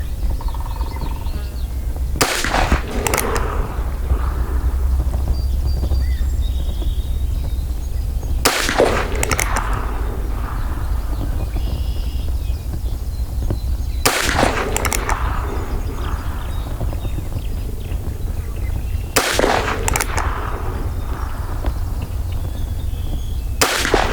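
A Heritage Rough Rider .22LR revolver with a 16-inch barrel fires four sharp, well-spaced shots at an outdoor shooting range, each one loud and close with a short ringing tail.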